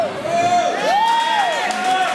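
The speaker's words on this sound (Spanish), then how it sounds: "Quiero tener un fuerte aplauso" A concert crowd at a live band show cheers with loud whoops and rising shouts over a dense, sustained roar, close and continuous throughout.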